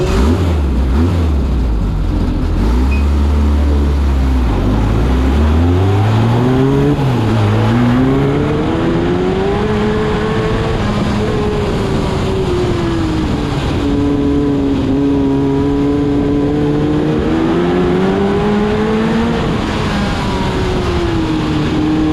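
A classic F2 stock car's engine drones loud and close through a race, dipping and climbing in pitch as it lifts off and accelerates again, with no talk over it.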